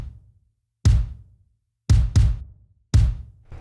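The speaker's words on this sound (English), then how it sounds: "And then we have a Make Pop Music kick," Make Pop Music kick drum sample at velocity 3 struck five times in an uneven pattern, each a loud punchy low thud with a bright click and short tail, no talking.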